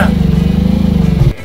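A car engine in a Minecraft car mod drones loudly with a pulsing, buzzy rhythm, like a small motor held at steady revs, then cuts off abruptly near the end.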